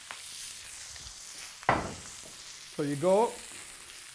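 Oxtail sizzles and fries in a pan, a steady low hiss of frying beneath short bursts of stirring noise, with someone briefly speaking nearby.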